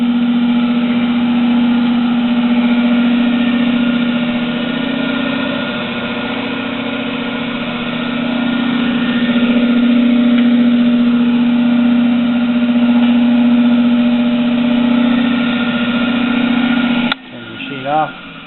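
A RONG FU 38-inch radial drill press (model 43218) motor runs with a steady, loud mechanical hum and drone, holding even for most of the stretch before cutting off with a brief clunk near the end.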